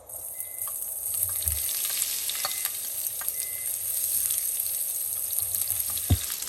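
Garlic, onion and chilli frying in a pan, a steady loud sizzle with occasional stirring scrapes and clinks, alone without talk.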